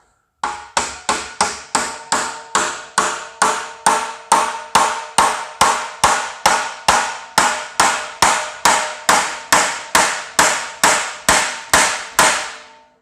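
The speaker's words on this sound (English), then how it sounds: "I'm going to grab a hammer." Rapid, evenly spaced hammer blows ring out on a rusted HVAC unit's metal, around two dozen sharp clanks in a steady rhythm, close and loud.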